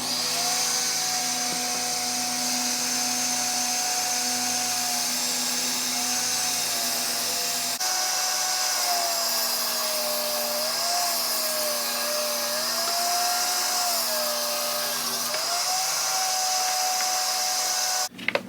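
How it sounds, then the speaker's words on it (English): A power saw cutting plywood into 1-inch strips, a steady loud motor whine with a shifting pitch under the blade load, running continuously at close range. "start to cut the plywood at 1-inch strips"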